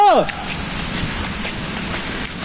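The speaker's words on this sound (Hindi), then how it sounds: "ये देखो बारिश कितनी हो रही है" Heavy rain falls steadily outdoors as a continuous broadband hiss, close and fairly loud, with a brief tonal chirp at the very start.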